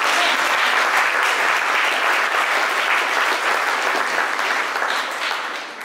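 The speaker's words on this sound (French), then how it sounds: "Je pense qu'on peut également l'applaudir" Applause from an audience at a park festival forum fills the space, a loud, dense and continuous clapping that stays strong for several seconds before easing slightly at the end.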